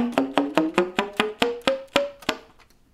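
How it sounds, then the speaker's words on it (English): Saxophone slap tonguing: eleven sharp percussive pops in a steady rhythm, each note stepping higher up the horn from the low register, played alone and fairly close. "and it makes this slap tone."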